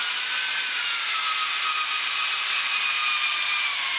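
A power tool works JetStream wax into a ski base, giving a steady, close, bright high-pitched whirring hiss that holds evenly throughout.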